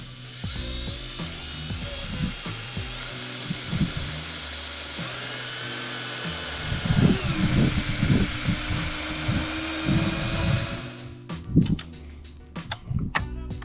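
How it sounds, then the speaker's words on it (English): A power drill spins a car engine's oil pump counterclockwise, whining at a steady pitch while mechanical ratcheting and clattering parts rattle underneath, speeding up and turning choppier toward the end. "We're going to spin this up counterclockwise with the drill"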